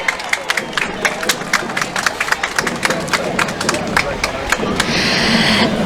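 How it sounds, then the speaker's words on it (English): A parade crowd at the 127th Norwood Day Parade applauds the mayor and his wife with scattered, crisp claps over a murmuring crowd, swelling into a louder, fuller cheer near the end, with voices mixed in. "So let's have a round of applause for Mayor Williams and his wife"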